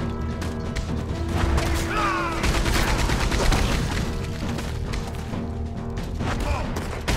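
Gunfire from NPC combat in Red Dead Redemption 2 crashes out in dense, overlapping bursts of loud shots, with game clatter and a brief whistling tone mixed in.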